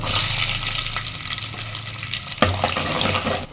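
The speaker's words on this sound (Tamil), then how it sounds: "நல்லா வடகம் வெடிச்சிருதுங்க ரொம்ப தீயை விட்டுறாதீங்க" Vadagam crackling and frying in hot oil for a Manathakkali kai kuzhambu, a steady close sizzle with a sharp louder burst of popping midway, no voices.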